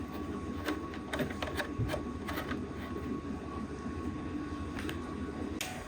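A FocusInc Starfire-62U roll-to-roll UV DTF printer and laminator running, a steady mechanical rumble and whir with intermittent clicks and ticks scattered throughout, continuous and fairly loud.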